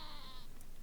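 A goat-shaped vehicle hood ornament in Wasteland 3 lets out a single short, wavering bleat, faint and brief under a steady game background.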